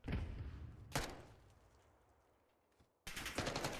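Gunfire in an esports shooter match, Bash Esports against Fortifi Esports: rapid bursts of wall-bang shots rattle in loud volleys, with a quieter lull between them before a final heavy burst.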